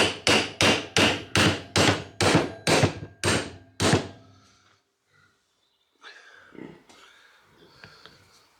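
A hammer knocks out a universal joint on a Toyota Hilux driveshaft with about eight loud, evenly spaced metallic blows over four seconds, followed by quiet and faint shuffling.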